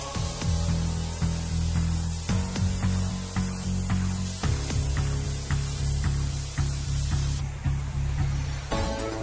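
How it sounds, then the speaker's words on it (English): Powder spray torch laying Technopowder MB40 hardfacing onto the blades of a drilling stabilizer, a loud steady hissing roar with faint repeated clicks and knocks, close and continuous. "each blade using the spray torch with Technopowder MB40"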